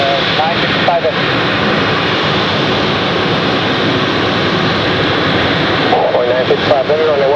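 A Korean Air Boeing 777 on its takeoff roll, a loud steady jet engine roar that holds throughout, with radio chatter from air traffic control heard over it.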